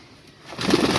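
Pet pigeons cooing as they are bathed, a soft murmur that swells into louder, fuller cooing over the second half of the short moment.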